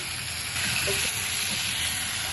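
Spices sizzle in fish oil from shapla fish in a pan while being stirred, a dense steady hiss close up with a soft swell of scraping midway, no voices.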